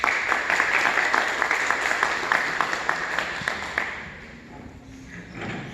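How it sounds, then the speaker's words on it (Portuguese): A Mass congregation on the Sixth Sunday of Easter gives a round of rhythmic clapping, fairly close and moderately loud, fading out after about four seconds into quiet room tone. "Salva de palmas a palavra de Deus"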